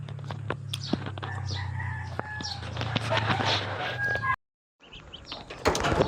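Clucking and calls from a pet chicken close by, with short repeated vocal bursts over faint background noise, then a brief silent gap before more sounds.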